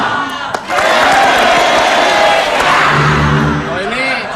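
A television studio audience cheers and claps loudly together, a crowd roar with whoops swelling and then easing, and talk running underneath.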